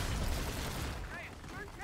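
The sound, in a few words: anti-aircraft gunfire in the video game Call of Duty: Infinite Warfare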